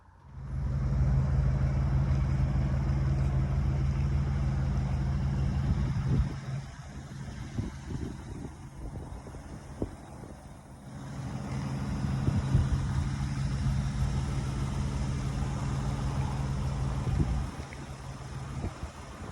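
A 1.8-liter non-supercharged car engine idles steadily nearby with a low, continuous rumble that dips briefly midway and then returns, with no talking over it.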